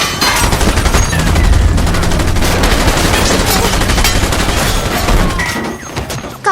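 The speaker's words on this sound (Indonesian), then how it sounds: "Mesin gun pun disiapkan dan kapal pun diarahkan." Loud, sustained machine gun fire from a film, fired from a ship, rapid continuous rattling bursts with booming undertones, dense and close.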